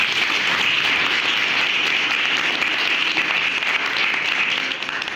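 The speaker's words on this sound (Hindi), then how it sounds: "उसके लिए जोरदार तालियां हम लोग बजाएंगे" A large audience gives loud, sustained applause during a talk on women's education: a thick, unbroken roar of clapping at a steady level, easing slightly only at the very end.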